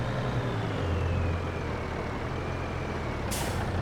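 A heavy truck in Farming Simulator 22 rolls through deep February snow, its engine droning low and steady throughout, with a sharp burst of air brake hiss near the end.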